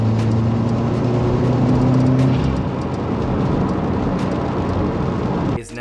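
A steady hiss of air from an aftermarket turbo bypass valve rides over a loud running 2018 Subaru WRX engine, continuous and close, with a low idle hum beneath that cuts off near the end.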